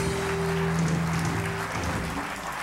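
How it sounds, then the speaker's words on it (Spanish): Applause from a television studio audience, a dense sustained patter of clapping, moderately loud and unbroken, with a low hum beneath that fades toward the end. "aplauso por eso"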